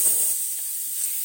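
Air hisses out of a bicycle tire valve in a steady, high, bright stream held for over a second, with a brief low rustle at the start.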